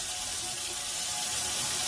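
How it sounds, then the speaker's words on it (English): Warm tap water running steadily from a faucet over the bristles of a brush, a close, continuous hiss and splash with no talk. "I'm just going to run warm water along the bristle."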